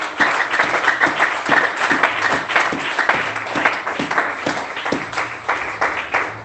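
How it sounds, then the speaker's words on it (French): A church congregation claps and cheers for the king, dense sustained applause with many hands close and loud, steady throughout with no speech on top. "Est-ce que tu peux acclamer convenablement?"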